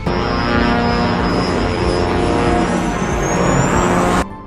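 A propeller airliner's engines drone loudly and steadily in a climb, a dense continuous roar with a rising tone before it cuts off abruptly.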